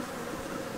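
Honeybees, including Italian bees, hum as a steady, close, continuous buzz at an open homemade hive, with no voices heard.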